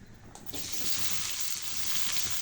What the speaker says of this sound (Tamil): ஊற்றிட்டு வெங்காயத்தை போட்டுக்கலாம். வெங்காயம் வதங்கட்டும்.